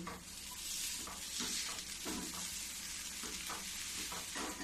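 Chopped coriander leaves being stirred into a samosa filling of peas in a hot pan, a soft continuous sizzle with scraping stirring strokes, fairly quiet and without talking.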